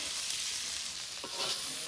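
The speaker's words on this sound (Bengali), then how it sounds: "ঠাকমা এখানে চুলা জ্বালাইতেছে, মিষ্টি কুমড়া ভাজা শুরু করে দিচ্ছে" Sweet pumpkin frying in a pan on a freshly lit stove, giving a steady, fairly faint hiss and sizzle throughout with a brief stir or scrape toward the end; no voices.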